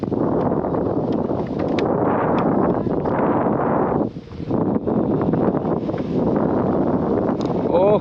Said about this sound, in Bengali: এত হাওয়া দিচ্ছে পাখিটাও উঠতে পারছে না